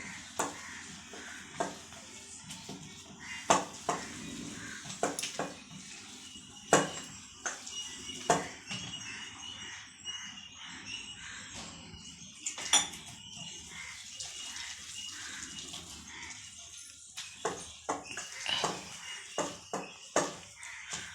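Gujarati methi gathiya batter being beaten together in a bowl, with repeated scraping and clinking of a utensil against the bowl in an irregular rhythm, close and moderately faint, with soft kitchen background noise.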